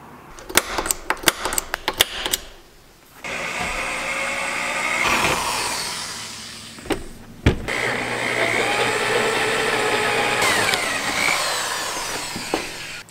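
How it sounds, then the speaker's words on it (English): A power drill whines steadily as it bores half-inch holes into scrap metal for rototiller tines, grinding continuously after a few sharp clicks and taps at the start. "The next step into mimicking this part is drilling a couple half-inch holes."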